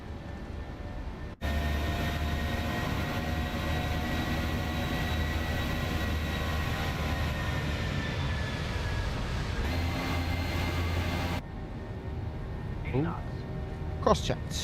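Jet engines of a PMDG 737-800 spooling up for takeoff in Microsoft Flight Simulator, a steady loud roar with rising whine, running alone and then cutting off, with brief voice at the end.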